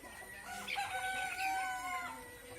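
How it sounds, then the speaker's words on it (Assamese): Local free-range chickens and broiler birds crow and cluck together, a near, busy mix of rising crowing calls over steady clucking, with no talk. "এইবিলাক মোৰ লোকেল মুৰ্গী আৰু কয়লাৰ।"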